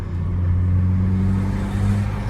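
A BMW F22 M235i with a stage 2 tuned N55 engine holds a steady, loud throaty drone with a low rumbling hum, close by and continuous.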